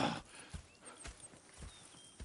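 Horses in Red Dead Redemption 2 walk with a steady clip-clop of hooves, about four soft beats per second, fairly faint against quiet game ambience.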